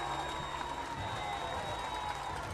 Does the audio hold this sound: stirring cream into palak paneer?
no